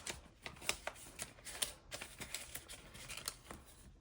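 Cash bills handled and slid into an envelope, giving soft papery flicks and rustles in an irregular sequence, close up and quiet, without talking.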